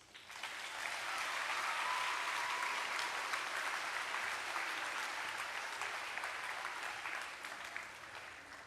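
Sustained audience applause for a high school rifle drill team at a veterans assembly, a dense wash of clapping that swells within the first second, holds steady and then tapers slightly.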